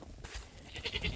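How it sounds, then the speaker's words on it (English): A baby goat on a farm with chickens lets out a short, faint bleat or two against quiet outdoor background noise. "Baby goat."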